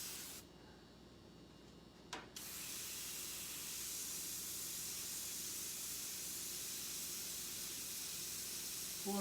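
An airbrush sprays black paint in a steady, soft hiss that runs continuously, close by, with a brief click near the start.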